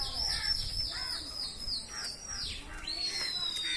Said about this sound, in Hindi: इधर देखें जी कबूतर की लड़ाई हो रही है